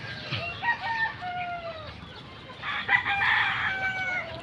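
Chickens and roosters at a chicken farm, with overlapping crows and clucks throughout, a louder burst of crowing near the end; several birds heard at moderate distance.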